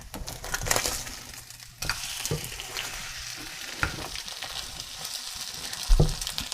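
Beaten eggs sizzling in a pan for scrambling while being stirred and flipped, with a close crackling fry and a few sharp scrapes and knocks from the utensil, with no voices.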